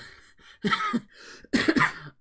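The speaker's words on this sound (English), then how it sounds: "I've still got a bit of a cough." Two harsh, raspy coughs, close and fairly loud, separated by a short breathy pause.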